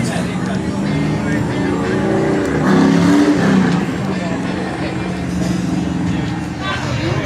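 An LT6 race engine starts and revs at a car show, a loud, continuous engine roar that swells midway and stays close, with background crowd noise.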